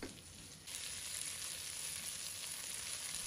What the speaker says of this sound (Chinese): 炒香后，把红椒放入锅中，继续翻炒，炒至断生